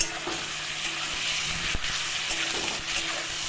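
Sliced pointed gourd sizzles steadily in a hot pan after a splash of hot water, a continuous close frying hiss with no talking.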